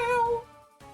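A human voice imitates a cat, giving one drawn-out nasal meow followed by a short, fainter second sound, close and alone.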